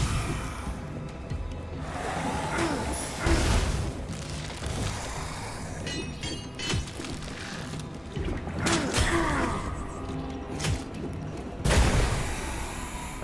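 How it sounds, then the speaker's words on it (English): Booming explosions and crackling blasts burst repeatedly in the action game Curse of the Dead Gods, several heavy hits spread through a busy mix of combat effects. "Let's get another explosion."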